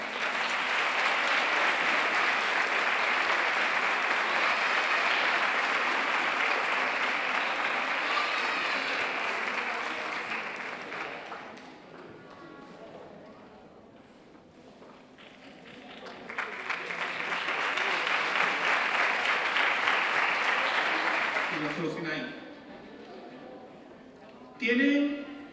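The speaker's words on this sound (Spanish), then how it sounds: "Un fuerte aplauso para ella." Audience applause at a closing gala for seniors as diplomas are handed out, two long waves of dense clapping with a quieter gap between, then fading as a voice begins speaking near the end.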